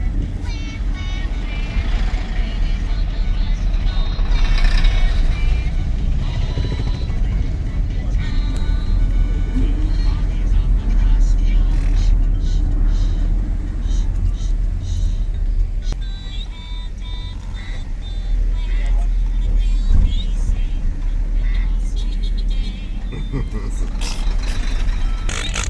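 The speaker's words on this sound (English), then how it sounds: "There's a lot of vehicles." Heavy road traffic of cars and trucks, with a logging truck among them, rumbles steadily throughout, a dense broadband drone with passing vehicles and occasional beeps, while people talk over it.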